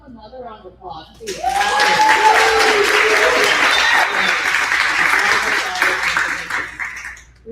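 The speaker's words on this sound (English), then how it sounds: "let's give them another round of applause" A live audience at a tech founders' panel event breaks into sustained applause, loud and dense for several seconds after a brief start, with some voices mixed in before it tapers off.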